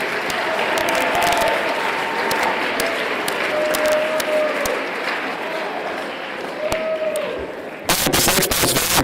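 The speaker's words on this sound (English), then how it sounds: "let's give a big round of applause" Audience applause at a college athletics banquet: a dense, sustained crowd of clapping hands with scattered sharp claps and faint voices mixed in, swelling louder near the end.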